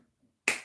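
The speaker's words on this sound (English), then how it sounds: "Look at how I'm clapping my hand." A single sharp hand clap, close and crisp, made during a sewing and pressing session for a two-piece top and skirt, standing alone after brief quiet.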